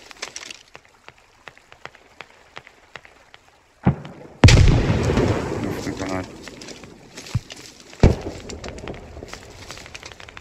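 A grenade detonates in the video game Squad with a sudden loud blast and a rumbling, crackling tail, followed later by a sharp second bang, among scattered gunshot clicks and faint chatter.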